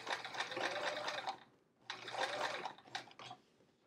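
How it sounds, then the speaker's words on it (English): A sewing machine stitches a travel art folio shut, running in two steady bursts separated by a short pause, followed by a few brief clicks close by. "It's getting sewn shut right now, and no one's ever gonna know that that's the spot where we did it."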